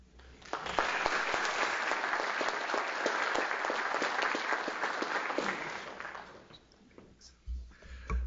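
Audience applause at the OU Energy Symposium welcomes Dean Pullen to the stage, a dense, steady clapping that starts quickly, holds for about five seconds, then thins and fades out.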